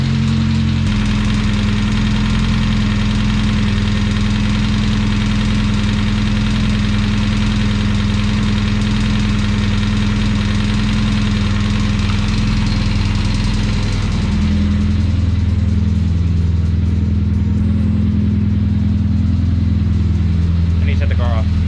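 A Nissan 240sx engine idles steadily and loudly up close, a deep continuous rumble with a slight knocking texture that drops in pitch and level partway through as it settles.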